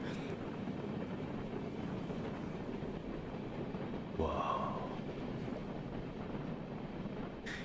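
A train moving in VRChat, a steady rumbling rail-car roll running throughout with a brief sharper burst midway.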